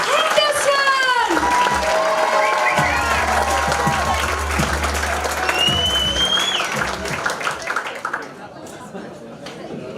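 Comedy club audience at a live standup competition heat applauding and cheering loudly, with whoops and crowd chatter, alongside an amplified host voice and a brief musical sting, then fading near the end.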